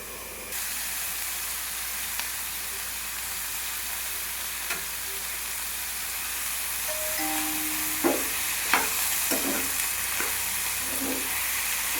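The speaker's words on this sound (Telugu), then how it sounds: "బీరకాయ అన్నీ బాగా మగ్గేంత వరకు వేయించాలి." Ridge gourd with turmeric and salt fries in a pan with a steady, even sizzle and hiss, broken by a few soft clinks of stirring later on.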